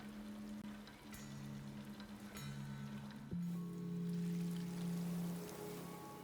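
Soft, steady water trickling, like rain running down or a small waterfall, in the climbing video game Jusant. A continuous wash runs under low tonal hums and faint chime-like notes, with no one talking.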